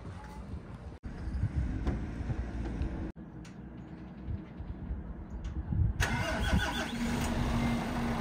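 A timber truck engine cranks and catches in Latvia, then settles into a rumbling idle close by with rattles and clunks, the sound cutting out briefly twice along the way.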